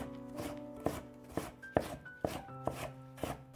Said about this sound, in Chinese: 然后改刀切成细丝，尽量切细一些。